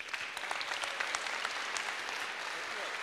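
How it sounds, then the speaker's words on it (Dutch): Audience applause at a liberation concert, steady dense clapping from many hands that holds at an even level, with a voice briefly audible under it. "geef me nog even een groot applaus als u wilt"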